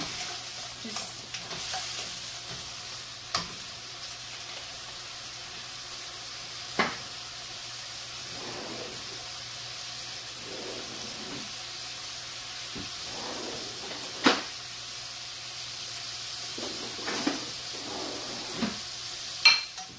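Mushrooms cooking down in a covered pan for keto pasta carbonara give off a steady soft sizzle and hiss, broken by occasional clinks and stirring knocks, close and continuous.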